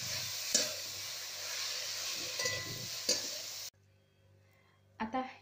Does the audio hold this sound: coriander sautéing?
yes